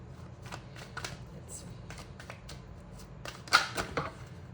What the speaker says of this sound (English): a lot of cards are flipping